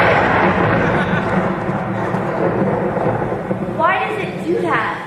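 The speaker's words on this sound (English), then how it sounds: "Maybe if we all sing loud enough, we won't hear the thunder." Thunder from a thunderstorm sound effect plays during a high school stage production of The Sound of Music, a loud rolling rumble that gradually eases, with a voice briefly cutting in toward the end.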